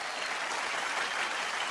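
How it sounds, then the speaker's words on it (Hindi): Sustained, loud applause from a live comedy show audience honoring veteran singing legends, a dense, steady wash of clapping with no voices over it. "मैं चाहूंगा कि इन सब लेजेंड्स के लिए एक बार जोरदार तालियां।"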